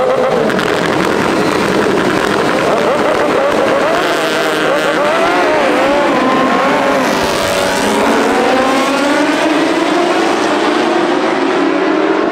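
Superbike racing motorcycles scream down the Interlagos main straight at top speed, loud high-revving engines with pitch sweeps as bikes pass close by, overlapping in a continuous roar with crowd noise beneath.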